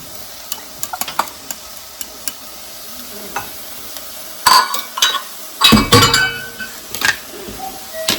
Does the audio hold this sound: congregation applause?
no